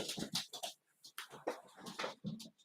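A young puppy whimpers and whines in a series of short, high, breathy cries with brief pauses between them, close and fairly quiet, no speech over it.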